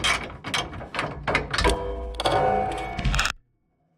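Socket wrench ratcheting tight bolts while fitting a small front bar, with loud, close, rhythmic bursts of clicking that repeat several times before stopping abruptly into silence.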